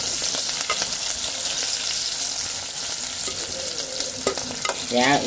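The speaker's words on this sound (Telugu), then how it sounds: "సరిగ్గా ఉల్లిపాయలు తేలితే చాలు దోరగా" Onions frying in oil, a loud continuous sizzle close by with a spatula stirring and scraping at intervals, no voices.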